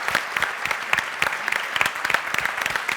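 Audience applauding at the first-ever IATA NDC Hackathon event for a program manager, a steady patter of many hands clapping with scattered louder claps, close and continuous without voices.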